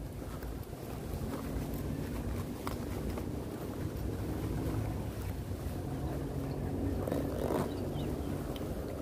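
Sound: wind blowing outdoors on the water

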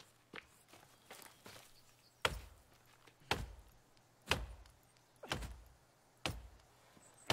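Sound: chopping wood for sticks in the video game The Forest

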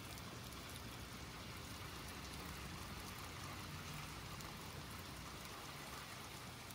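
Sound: rain in the video game Little Nightmares 2

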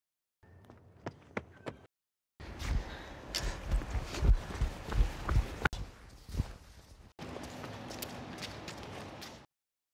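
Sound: footsteps sound effects from a sound library search

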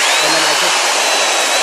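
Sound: drill spinning a pencil with rubbing compound to polish gauge lenses

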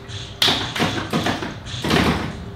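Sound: pinball machine solenoids firing

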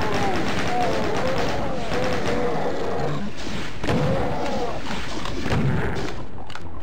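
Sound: chain gun firing in Final Doom video game

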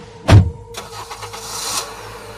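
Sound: ambulance engine starting and driving off, sound effect

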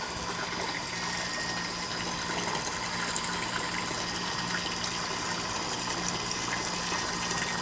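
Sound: dirty water running from supply tap

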